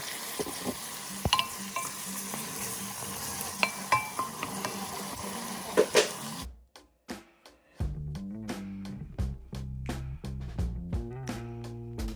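Food sizzles steadily in a hot pan while a utensil scrapes and clinks against it. The frying then stops and sharper clinks and tones follow.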